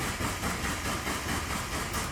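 A car engine that has just been rewired to a new ECU runs with a steady, rough, rumbling drone, close and fairly loud, with no voices.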